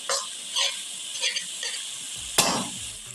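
Okra and minced meat fry in a pan with a steady hiss and sizzle, broken by several short stirring scrapes and one louder clatter near the end; no voices.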